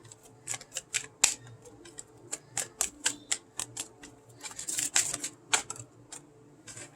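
Quick, crisp papery flicks and snaps of tarot cards being shuffled in an irregular run of clicks, close by and fairly quiet, with no talking.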